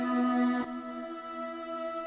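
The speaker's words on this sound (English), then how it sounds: "And then we added this nice little synth." A synth in a spooky song intro plays a steady, bright sustained tone. It shifts once abruptly about halfway through and then holds on at moderate volume.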